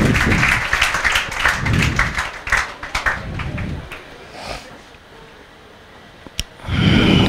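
Applause in a JEE maths class: short bursts of clapping from a group come and go, with a quieter gap in between, then a fresh round of clapping starts at the end.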